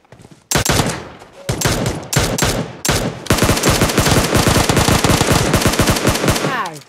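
Loud automatic gunfire in the mobile game PUBG Mobile: short bursts, then a long sustained rapid stream of shots, close and dominant throughout.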